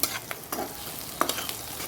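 Chopped onion fries in hot oil in a pan, giving a soft, continuous sizzle broken by several brief scrapes and taps as it is stirred.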